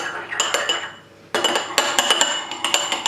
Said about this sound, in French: vous mélangez